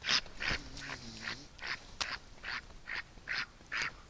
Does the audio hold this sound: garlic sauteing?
no